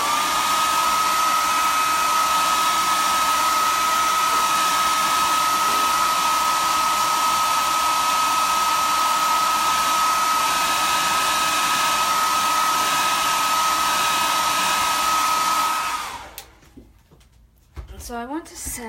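Heat tool blowing hot air over a chalk design on an Easter lantern, a loud steady whirring whine held for about sixteen seconds before it switches off, followed by faint handling sounds.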